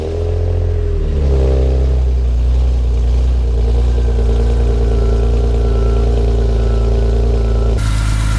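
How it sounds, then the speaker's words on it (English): A BMW E46 M3 engine fires up, briefly climbs, then settles into a steady, loud idle hum, and a sharp change near the end shifts the sound. "So I'm about to start the car."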